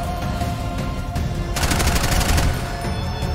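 Rapid automatic gunfire from the shooter game Bright Memory Infinite crackles in a dense, loud, continuous burst that grows heavier midway, close up and with no talking.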